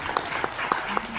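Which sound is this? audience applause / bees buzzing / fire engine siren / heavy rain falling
audience applause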